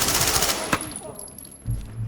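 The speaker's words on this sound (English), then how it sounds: "The sounds of the guns alone deserve a mention" Gunfire in the tactical shooter Ready or Not: a dense burst of rapid automatic shots at the start, then a single sharp report and quieter trailing sounds, with no talking.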